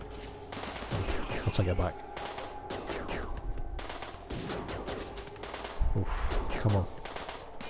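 Turret and colonist gunfire during a raid on a poison ship in RimWorld Alpha 12, with repeated bursts of rapid shots and thuds across the scene while someone talks over the action.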